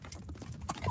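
A horse race sound effect plays galloping hoofbeats in a quick, steady clip-clop rhythm, fairly faint and continuous through the short stretch.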